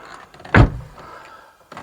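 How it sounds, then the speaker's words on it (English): A Volvo V70 car door shuts with one loud, solid, deep thunk, followed by quieter rustling and a faint later knock. "a big thunky door shut sound"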